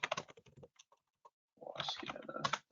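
Typing on a computer keyboard, entering a search into a simple web interface: a quick burst of close key clicks, a pause with a few stray taps, then a dense, louder run of keystrokes.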